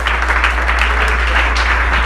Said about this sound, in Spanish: Alguien da un aplauso a Cristo en esta mañana por esa bendición.